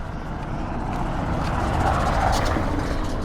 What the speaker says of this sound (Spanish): A ver, que viene un coche.